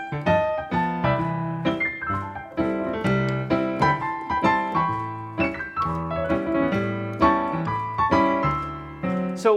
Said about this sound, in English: you're going to play some amazing runs down the piano using 6th chords.